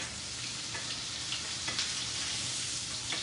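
Fish frying in butter in a pan gives a steady, close sizzle throughout, with a few brief scraping taps as the fillet is turned.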